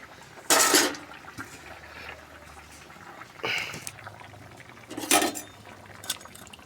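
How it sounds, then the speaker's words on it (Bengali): Fish are dropped into a boiling vegetable curry, giving three separate bursts of splashing sizzle and clatter against a quiet kitchen background, no talk. "দেখো ফুটে গেছে তরকারি, এখন এই মাছগুলো দিয়ে দেবো"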